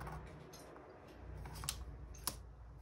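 Scissors cutting paper with brief snips and clicks, close and soft, with no talking.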